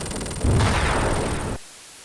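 A long explosion from the Sonic 3 video game, a loud burst of broadband noise that sustains for about a second, then cuts off abruptly into near silence.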